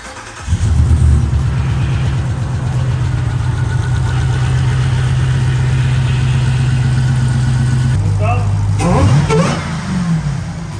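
A HellCat-swapped 2022 Jeep Gladiator Mojave cranks and fires, its supercharged engine settling into a loud, lumpy idle nearby for several seconds before a sharp blip of revs near the end.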